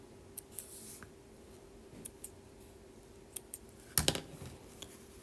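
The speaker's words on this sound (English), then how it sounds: "And then we're going to cut our threads again." Scissors snipping sewing threads while a fabric flower is being stitched, a few quick close crisp snips spread across a quiet room, with the sharpest cluster of cuts near the end.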